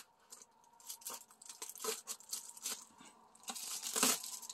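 Plastic Amazon mailer package being torn open by hand, a quiet close-up run of rips and crinkles in irregular bursts, with a sharper tear near the end.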